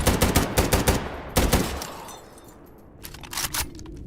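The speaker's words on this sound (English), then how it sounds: "You're shooting me through foliage." Bursts of enemy gunfire in a shooter game, several sharp rapid shots up front and another volley after a brief lull, then a quieter stretch before a last cluster of cracking shots.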